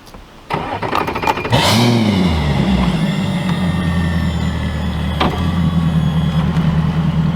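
Fishing boat outboard motor on a lake, starting with a short crank and catch, then a steady low idle that runs on continuously, close and fairly loud with a few faint knocks over it.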